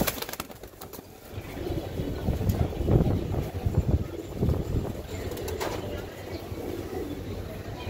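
Tournament-bred pigeons coo softly in a loft, low burbling calls recurring through a continuous murmur of nearby birds, with faint wing flutters and background voices.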